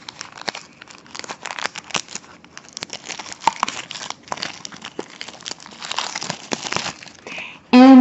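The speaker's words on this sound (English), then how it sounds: "Let me just open the packaging." Crinkly plastic wrapping torn and crumpled off a tarot card deck, close and fairly loud, in a steady run of irregular crackles and rips, ending with a brief sharper scrape.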